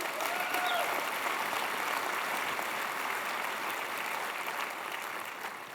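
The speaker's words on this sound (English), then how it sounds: "Please give yourselves a round of applause." Keynote audience at a tech developer conference claps steadily and evenly, a dense wash of applause heard from within the hall that fades slightly toward the end.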